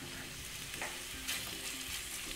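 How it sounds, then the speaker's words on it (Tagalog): Thinly sliced beef sautés in a pan as it browns for a creamy beef and mushroom dish, giving a soft, steady sizzle with occasional stirring scrapes, fairly quiet and with no talking. "At itinutuloy ko lang ang pag-isa hanggang sa mag-light brown na lahat ng sides nito."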